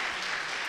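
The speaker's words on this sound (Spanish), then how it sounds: "vamos a darle un fuerte aplauso a todas las mamás" A church congregation applauds in a brief, even burst of many hands clapping together, with no other sound standing out.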